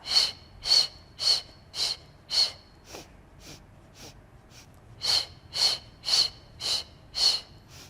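Sharp rhythmic breaths during a Pilates hundred exercise, a steady series of quick, forceful inhales and exhales, close and clear, pausing briefly in the middle before resuming.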